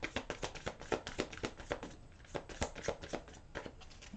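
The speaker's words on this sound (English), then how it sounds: "one more little shuffle and I feel like we're ready." A tarot card deck is shuffled repeatedly by hand, giving quick rhythmic riffles and papery taps up close, with no talking over them.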